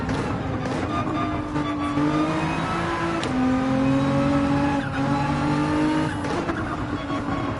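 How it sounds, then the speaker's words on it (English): Race car engines in Gran Turismo 7 roar continuously throughout, with several cars at Grand Valley revving and shifting gears close together, steady and loud with rising and falling engine pitches. "I can hear the cars coming from behind"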